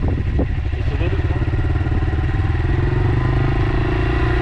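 A 2020 Honda CRF125F dirt bike runs steadily close by under throttle, its engine note loud and continuous with a slight rough clatter throughout.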